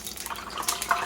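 Droplets of water flicked into hot oil in a cast iron pan crackle and spit, a busy, close sizzle with a few sharper pops and no talking.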